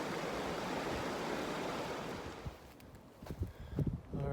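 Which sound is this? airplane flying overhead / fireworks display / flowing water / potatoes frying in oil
flowing water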